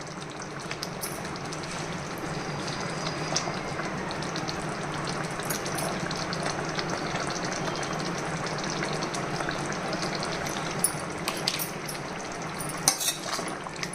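Eggs and potatoes cook with spices in a pan, making a low, even, continuous sizzle and bubbling with a few faint clinks near the end.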